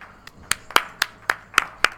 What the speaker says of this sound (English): And we're getting a small round of applause here.